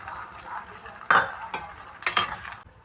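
Peas, tomatoes and yogurt being mixed in a pan with a spoon for matar paneer: soft scraping and stirring, with a few sharp clinks of the utensil against the pan and a faint sizzle underneath.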